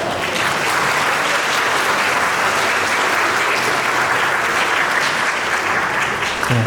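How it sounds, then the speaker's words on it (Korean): Wedding guests in a convention hall applaud loudly and steadily, a dense continuous wash of clapping that holds at full strength throughout, with a brief voice near the end. "큰 박수로 맞이해 주시기 바랍니다."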